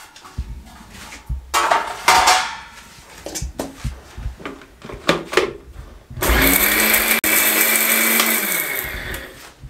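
A mixer grinder coarsely grinds dried coriander leaves: loud, steady whirring with a motor whine that runs for about three and a half seconds, following earlier knocks and clatter of the jar being handled.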